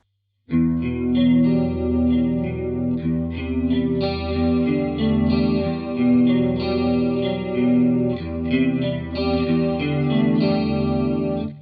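Electric guitar played through a Zander Circuitry Junipero modulation pedal with the detune control at maximum, sustained chords shimmering with a wide, wavering pitch-shifted chorus, loud and steady throughout with no talking.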